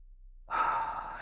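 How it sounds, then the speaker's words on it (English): A single slow, deep inhale that swells in abruptly after a moment of silence and is held steady, soft and close in a calm, quiet setting. "take a deep breath in"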